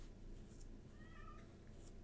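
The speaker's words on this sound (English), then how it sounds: "Cat." A cat in The Great Ace Attorney Chronicles lets out a single short, faint meow midway, over a low steady background hum.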